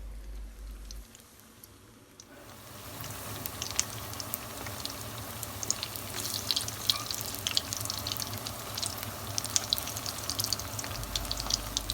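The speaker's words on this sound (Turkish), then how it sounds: "Mücverlerimizi kızartmaya devam ediyoruz." A steady crackling sizzle of zucchini fritters frying in hot oil fills the pan, rising after a quieter start and continuing without talk.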